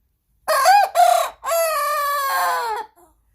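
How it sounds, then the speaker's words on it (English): A young backyard rooster crows nearby, loud and alone: a short two-part call and then a long, drawn-out, wavering cock-a-doodle-doo that trails off into silence. "And Chip appears to be crowing."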